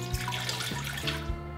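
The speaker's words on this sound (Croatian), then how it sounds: "U jako veliku posudu stavite vodu." Water is poured into a very large pot on a kitchen stove for cooking custard, a steady close splashing stream with a resonant, rising pitch and a few soft knocks.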